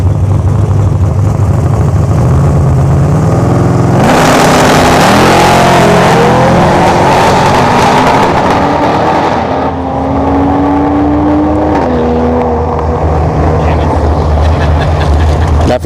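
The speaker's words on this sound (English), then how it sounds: "But the Camaro was breaking up there." A Camaro drag car races at a dragstrip during test-and-tune, its engine roaring loudly and sputtering as it breaks up, the pitch wavering and climbing across the run while a voice talks over the noise.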